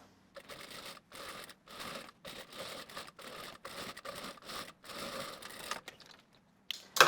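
Sewing machine stitches a seam finish on a dress in a series of short rapid bursts separated by brief pauses, close up, with a small click at the end.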